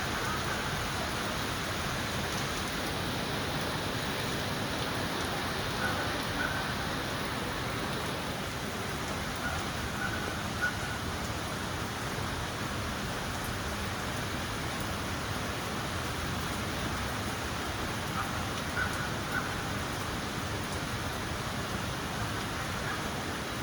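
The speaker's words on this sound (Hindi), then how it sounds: "ठंडी ठंडी हवा चल रही है, बारिश हो रही है" Steady rain falls continuously, a dense even hiss of drops with no voices, constant in volume throughout.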